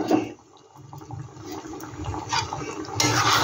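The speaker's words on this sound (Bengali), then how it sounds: "এর মধ্যে সামান্য একটু জল দিয়ে দিচ্ছি" Water poured into a potato ball masala curry in a pan, a short splashing, gurgling pour that swells toward the end.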